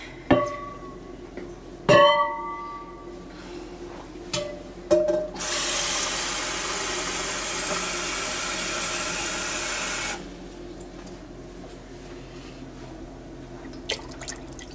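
A steady rush of water pours into a soup pan for several seconds, preceded by a few clinks and splashes, then stops, leaving a quiet background.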